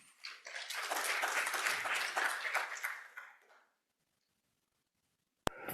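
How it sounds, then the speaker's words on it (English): A conference audience applauds a Korean parliamentarian keynote speaker, a dense burst of many hands clapping that swells for about three seconds, then fades out into silence. "Let's give him a big hand of applause."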